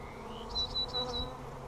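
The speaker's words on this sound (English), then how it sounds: "These bees are pretty gentle." Honeybees buzzing close by as a hive frame is worked during splits at a bee yard, a soft steady drone with a few louder passes of individual bees flying near.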